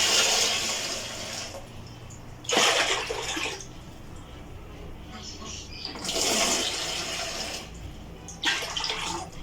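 Lukewarm water poured into a bowl of banana pancake mix, sloshing and splashing in several bursts that swell and fade, fairly quiet and close, with some faint background sound between pours.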